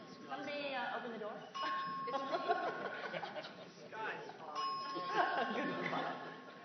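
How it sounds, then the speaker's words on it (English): A doorbell chimes twice, two bright ringing tones a few seconds apart, while a crowd at a conference chatters and laughs throughout. "Doorbell."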